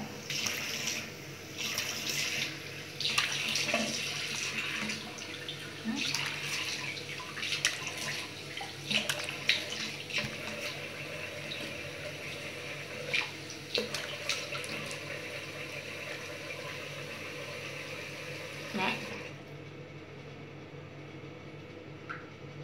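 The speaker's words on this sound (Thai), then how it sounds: "ล้างหน้ากับสบู่นี้หน้าสะอาดมากนะคะ" A bathroom tap runs steadily while a face is washed with soap, a continuous close splashing hiss with small bursts of splatter, stopping abruptly near the end.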